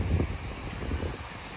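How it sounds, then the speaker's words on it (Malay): Strong wind at Pantai Remis beach in Selangor buffets the microphone, a low rumbling gusty roar that is strongest at the start and then settles into a steady hiss, with no voices. "Uish, memang kuat angin dekat sini."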